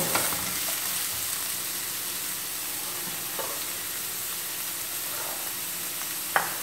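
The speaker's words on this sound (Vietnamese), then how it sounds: "Các bạn xào lửa nhỏ thôi." Fresh bamboo shoots and carrots, seasoned with a little soup powder, stir-fry on low heat with a steady soft sizzle, broken by occasional utensil scrapes and one sharper tap near the end; no voices.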